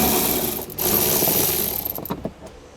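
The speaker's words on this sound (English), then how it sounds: "we're going to remove this bolt and this bolt. We're going to be using a 10mm socket." A ratchet fitted with a 10mm socket turns out bolts on a 2010 Pontiac Vibe during trailer wiring installation, giving quick close clicking pawl bursts, louder at first then tapering into a few separate clicks.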